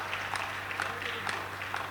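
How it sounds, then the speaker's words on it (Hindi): Audience applause at an outdoor Hindi poetry recital (kavi sammelan), a steady wash of clapping from a crowd that continues evenly without talk over it. "तो सब एक बार ताली और जोरदार"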